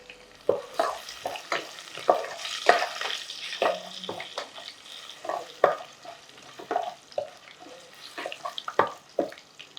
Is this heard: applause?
no